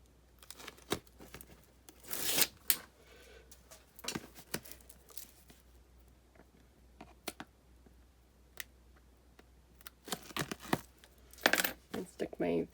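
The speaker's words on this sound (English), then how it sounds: "Just going to remove the backing of my score tape here." Adhesive backing being peeled off double-sided score tape while mounting chipboard for an album: short, crisp tearing bursts with scattered clicks and small rustles, close and fairly quiet, with no talking.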